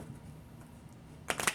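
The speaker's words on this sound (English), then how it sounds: "Let me shuffle one more time here." A deck of tarot cards is shuffled in a quick burst of crisp riffling near the end, after a stretch of quiet room hum.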